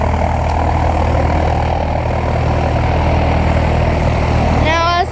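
A PT-17 Stearman biplane's radial engine drones loud and steady at close range while taxiing, a continuous even roar with a brief whistle near the end and talk mixed in.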